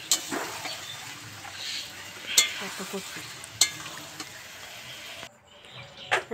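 Meat cooks in a pan in a home kitchen, a low continuous sizzle broken by sharp clinks and scrapes of a utensil, with a short quiet gap near the end.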